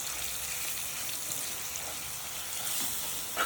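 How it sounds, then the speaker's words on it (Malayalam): Fish curry masala mix frying in a pan while being stirred, a steady crackling sizzle with faint scraping, close and continuous, without talk. "ഇത് നന്നായിട്ട് ഇളക്കി മൂപ്പിക്കണം."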